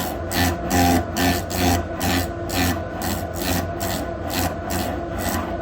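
Steady back-and-forth rasping as a fine wire rubs between the screen glass layers of a Galaxy S8 to separate them, repeating in an even rhythm close up with no talking.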